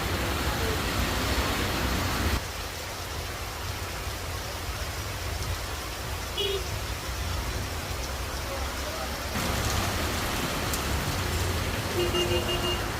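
Steady rain falls outdoors in Feni, a dense continuous hiss that drops slightly in level midway and then returns, with faint intermittent tonal sounds far in the background.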